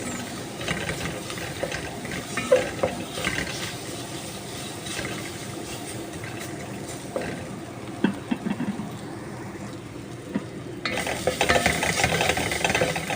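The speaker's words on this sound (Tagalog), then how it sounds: "Wait lang natin siyang maluto, guys, ang ating sibuyas" Onions frying in a little cooking oil in a pan, a steady crackling sizzle with occasional stirring clatter, growing louder and brighter near the end, no talking.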